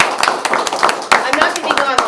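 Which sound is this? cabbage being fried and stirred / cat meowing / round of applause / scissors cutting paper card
round of applause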